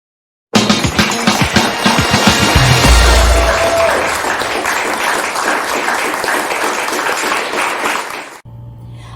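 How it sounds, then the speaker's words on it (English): Loud, dense audience applause after a talk, a steady wash of many hands clapping that holds for several seconds before dropping off abruptly. "A warm round of applause for Emerald Selin"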